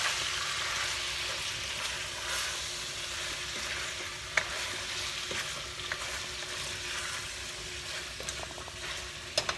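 Chicken curry fries steadily in a pan, a dense, even sizzle that holds for the whole stretch, with a few sharp clicks and taps of a utensil against the pan.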